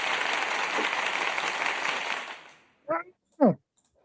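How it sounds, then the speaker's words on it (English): Studio applause for Pat McAfee of West Virginia, a dense burst of clapping that runs loud for about two seconds, then fades and stops, followed by a couple of short sharp sounds at the end. "Let's get some clap on"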